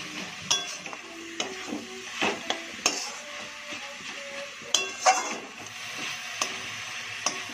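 Jaggery is stirred into a coconut filling in a pan for steamed puli pitha, with scraping spoon strokes and clinks against the metal at irregular intervals over a soft, steady sizzle.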